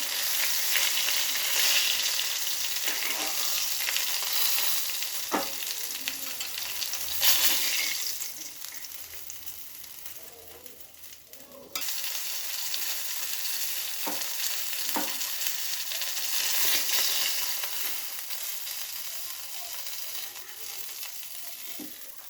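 Tengra fish fry in hot oil in a pan over a lowered gas flame, a steady close sizzle broken by a few brief stirring clinks and a short dip before the crackle resumes.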